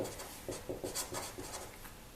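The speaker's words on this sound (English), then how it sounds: "So let's write this." Marker or chalk scratches across a board during a lecture in a quiet room, a quick run of short strokes close by with no talk.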